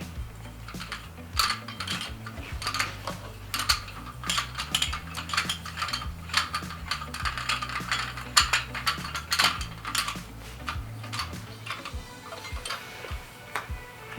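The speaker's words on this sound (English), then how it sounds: "And then you can just screw that back into place." Small mechanical clicks and ratcheting ticks repeat steadily while a screw is driven into the base of a RevoSpin Apex enclosure, close and fairly quiet, with no voices.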